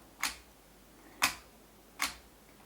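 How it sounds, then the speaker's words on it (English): A 1970s camera's shutter fires three times, each a crisp, quiet click, spaced about a second apart against near silence. "Here is the shutter."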